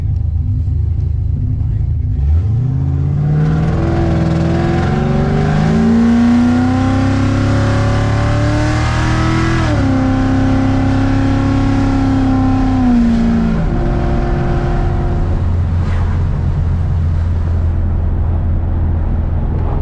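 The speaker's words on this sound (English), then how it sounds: "It revs different than the actual LS2." A loud car engine on a dyno during tuning revs up hard and climbs in pitch, holds near the top, then drops back and idles with a deep rumble; no talking.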